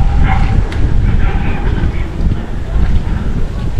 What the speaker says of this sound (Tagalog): Ayun, lakas ng hangin.